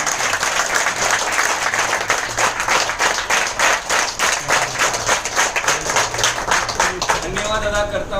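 An audience at a Hindi-language business event claps in rhythmic unison, the steady beat of many hands carrying on for several seconds before a voice begins speaking at the end.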